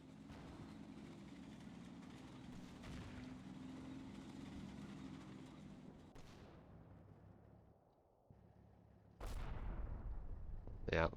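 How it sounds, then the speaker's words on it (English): Artillery shells fall and explode in the Combat Mission war game: a low rumbling barrage, a thinning lull, then sharp loud blasts close by near the end. "it looks like some artillery falling on them"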